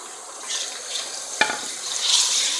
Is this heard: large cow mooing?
no